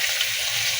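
Chopped onions fry in hot oil with spices in a pan, giving a steady, close, hissing sizzle with no talking.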